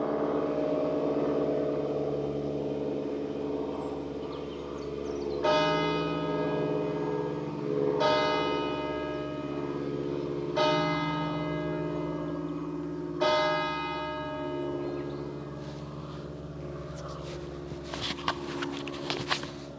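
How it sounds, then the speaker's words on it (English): Church bells ring out near a canal, several slow, evenly spaced strikes sounding clearly over a constant low engine drone. "I'll just wait for the bells."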